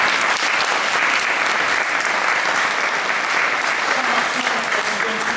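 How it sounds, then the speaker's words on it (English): An audience at a village evening show applauds the provider of the night's films: dense, steady clapping at moderate level that holds evenly from start to finish. "So I think he deserves a massive clap"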